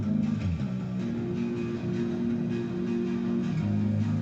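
Clean electric guitar with reverb and a touch of chorus, atmospheric, playing steady strummed chords at a moderate level with no voices over it.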